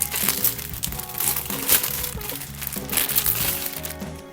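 Plastic packaging for a Taylor Swift 1989 shirt from a Shopee and TikTok haul crinkles and crackles steadily up close, with dense rustling and crumpling throughout and no talk.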